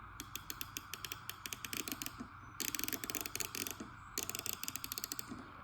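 A Tekton ratchet wrench clicks close and crisply: quick trains of sharp ratchet clicks, with a brief pause and then two faster, louder runs.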